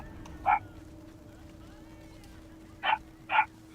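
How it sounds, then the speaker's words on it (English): A dog barks in the video game Diablo 4 inside a large dungeon, with three short yelps: one alone, then a quick pair near the end, all over a low steady game drone. "Is that a dog barking?"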